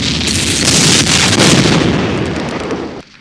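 Artillery fire in a war strategy video game set in the Arab-Israeli war: a loud, continuous roll of booming blasts and crackling impacts that holds steady, then fades and cuts off near the end.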